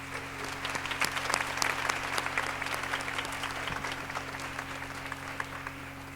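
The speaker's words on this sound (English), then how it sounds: "The Honorable Ellen Corbett, would you please give her a round of applause?" An audience at a political honors event applauds steadily, a dense patter of many hands clapping together at a moderate distance, rising early then holding evenly, with no talking over it.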